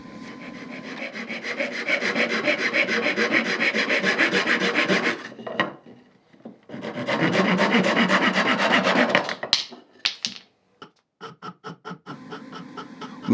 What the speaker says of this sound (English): it's time then to saw off the pieces